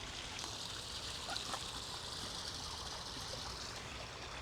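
Water trickling steadily over a small garden pond waterfall, a continuous soft splashing wash that stays even throughout, fairly close and moderately quiet with no talk.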